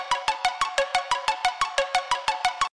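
A bright, tonal melodic pattern is played through an audio compressor set to a fast release, its repeated plucked notes pumping in a quick even rhythm, moderately loud with no talk, before stopping abruptly at the end.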